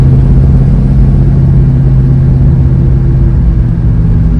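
A 1967 Dodge Coronet engine rumbles steadily at close range, a low mid-pitched motor hum holding fairly even as the car rolls past.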